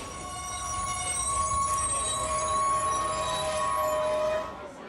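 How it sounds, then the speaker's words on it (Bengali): A train rumbles steadily with sustained metallic wheel squeals and faint clinking, growing slightly louder before easing off near the end. "নড়ে উঠল ট্রেন"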